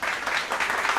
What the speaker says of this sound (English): clap it up for Ty